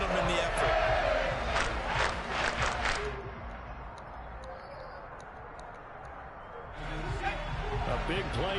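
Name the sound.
football stadium crowd cheering before third and goal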